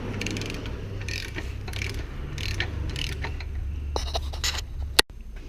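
Close mechanical ratcheting as bolts are loosened bit by bit on a Hennes Johnson mastic sprayer pump, bursts of rapid clicks over a low hum, ending in a sharp metallic clack.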